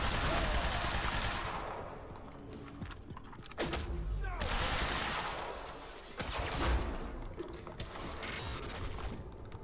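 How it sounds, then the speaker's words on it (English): Enemy gunfire in the video game Quantum Break, dense automatic bursts that continue through the whole stretch with louder surges, heard at close range over a busy game mix. "there's a guy behind me shooting me"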